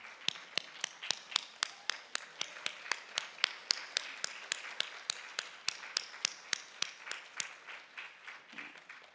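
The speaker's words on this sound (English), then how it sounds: "If you guys will please join me in giving them a round of applause." Clapping in a steady, even rhythm, sharp distinct claps repeating about three times a second, sounding like a small group or a single pair of hands.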